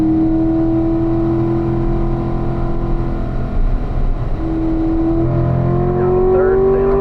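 Race car engine loud and close throughout, a steady high drone that drops in pitch as it downshifts to third under braking into a corner, then climbs again; engine and road noise fill the whole stretch.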